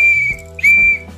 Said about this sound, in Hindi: गोली इसके अंदर पड़ी है, देखते हैं वर्क करती है नहीं सीटी।